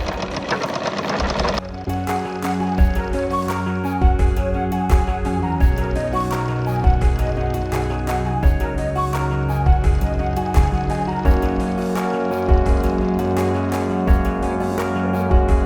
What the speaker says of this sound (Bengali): এবার এই 1 ইঞ্চি নিচ থেকে আমি এই সেলাইটা